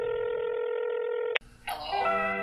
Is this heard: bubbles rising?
no